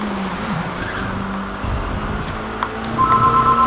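Car engine in The Crew 2 racing game, a loud revving drive with shifting engine pitch and brief tire squeal, running continuously without talk.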